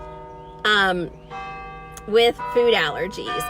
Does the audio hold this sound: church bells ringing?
yes